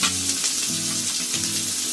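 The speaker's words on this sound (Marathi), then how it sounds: "लसूण लाल झाली, त्याच्यामध्ये आलं टाकते आणि कांदा टाकते" Garlic, ginger and onion fry in hot oil for street-style chicken Schezwan noodles, a steady close sizzle with brief stirring scrapes breaking in.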